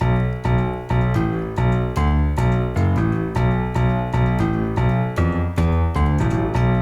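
Low piano notes played one after another in a steady rhythm, a left-hand bass line with sustained harmonics, clear and close with no voices.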